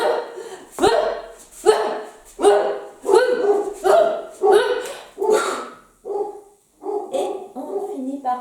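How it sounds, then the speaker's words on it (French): Several dogs bark loudly and close in a rapid series of sharp barks, roughly one per second, then trail off into softer yips and whines. "Comme vous entendez, il y a mes chiens qui réagissent."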